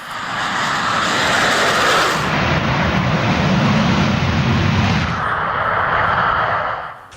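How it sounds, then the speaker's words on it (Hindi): An F-47 fighter jet engine roars loudly and steadily for several seconds, a dense, broad rush of thrust with no voices over it. "एक नया फाइटर F-47 तैयार कर रहा है अमेरिका। F-16 का नाम सुना आपने, F-47 आप देख रहे हैं इस वक्त अपनी स्क्रीन पर।"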